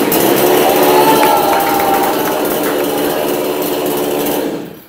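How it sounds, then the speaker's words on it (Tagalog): A Powerhouse 22-inch petrol chainsaw runs steadily at a loud, high-pitched buzz close by for nearly five seconds, its drone unbroken until it cuts off abruptly at the end. "ito naman po yung order po ninyo na powerhouse 22 inches petrol chainsaw"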